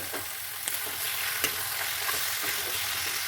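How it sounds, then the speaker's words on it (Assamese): Meat frying in a pan with fried onion and ginger gives a steady, broad sizzle with a few sharp stirring clicks and scrapes, close and continuous with no talking. "এয়া মাংসখিনি মই এতিয়া দি দিছোঁ"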